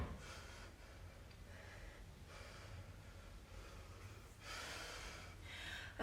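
Heavy, rhythmic breathing after a kettlebell workout, slow puffs in and out close to the microphone, quiet overall, with a louder gasping exhale toward the end.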